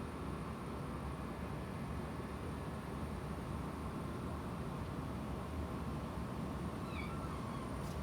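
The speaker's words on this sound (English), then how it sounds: "Is that your meow meow?" A cat gives a faint, brief meow near the end, barely rising above the steady hum of a Carrier HVAC system running during its first start of the season.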